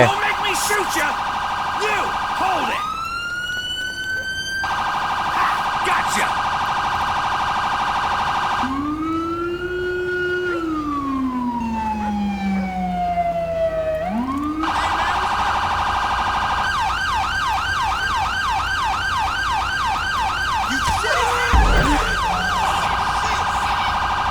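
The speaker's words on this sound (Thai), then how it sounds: "เดี๋ยวปิดเสียงเสเรนก่อน" Police car siren in the video game GTA V with the LSPDFR police mod. Loud and close, it cycles through wailing and yelping patterns for the whole stretch, with a brief bright horn-like burst near the start. Nobody talks over it.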